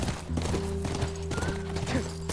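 Horse hooves clip-clopping at a steady gallop in The Last of Us, a continuous rhythmic beat over a droning game soundtrack with no talk.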